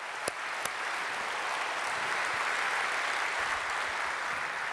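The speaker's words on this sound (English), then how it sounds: "Can we give our public school teachers and all of our teachers a big round of applause?" An audience at a public affairs event applauds public school teachers, a steady even wash of many hands clapping with no speech over it, a couple of sharper claps standing out near the start.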